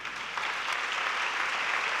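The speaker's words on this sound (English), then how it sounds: "No wonder you get a round of applause." Large audience at a plenary session of the Global Education and Skills Forum 2019 applauds, a steady, even roar of many hands clapping at a distance, sustained throughout.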